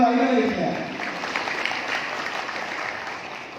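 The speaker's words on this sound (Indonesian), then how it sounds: "Sekali lagi tepuk tangan untuk Partai Gelora Indonesia." An audience at a Partai Gelora Indonesia public lecture applauds, a broad wash of clapping that starts right after a voice over a PA and then fades gradually across a few seconds.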